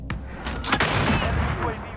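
Sharp gunshots from a gun on single fire in Call of Duty: Modern Warfare crack close and loud, several distinct reports in quick succession with booming echoes trailing behind.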